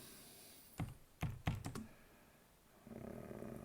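Keys on a computer keyboard clatter in a short burst of quick taps, close but quiet, followed by a soft hiss of background noise.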